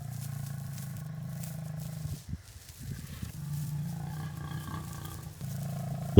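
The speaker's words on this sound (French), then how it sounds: "Le premier rugissement de la jeune alliance s'éleva de la lisière du troupeau de buffles." A coalition of young lions roars from the edge of a buffalo herd, their calls higher-pitched and more urgent than older males'. Sustained rumbling roars fill the clip, dipping into a short lull midway before rising again.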